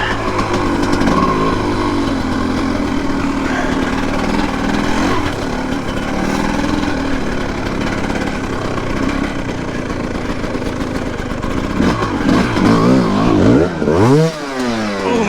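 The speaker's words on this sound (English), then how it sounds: "Second gear, I need to get more rev" A 2022 TM EN300Fi fuel-injected enduro motorcycle engine runs loud and close throughout, with steady rough revving, a brief throttle drop near the middle and rising, swooping revs toward the end.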